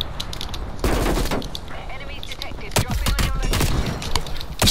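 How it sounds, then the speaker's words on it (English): Artillery barrages and gunfire in a multiplayer video game, with dense overlapping explosions and rapid shots rumbling continuously, loud and close, with several sharp bursts near the middle. "Artillery targeting detected. Deploying on your location. Artillery inbound."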